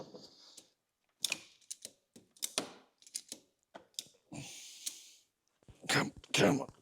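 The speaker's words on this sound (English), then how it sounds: "strap the ratchet strap round it, and just pull this rad forward just to help us give a bit more space" A ratchet strap is cranked tight to pull the radiator of an Audi Q5 forward, giving bursts of sharp mechanical clicks and ratcheting rasps separated by short pauses, close and fairly loud.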